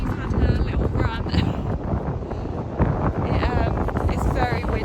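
Strong gusting wind on a beach on the Belgian coast buffets the microphone with a roaring rumble, while a voice talks faintly beneath it.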